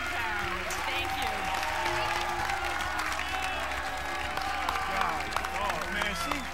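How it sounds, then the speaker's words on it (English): Studio audience at the game show Dog Eat Dog breaks into sustained, dense applause with scattered cheers, while a host's voice talks over it. "give her a huge round of applause"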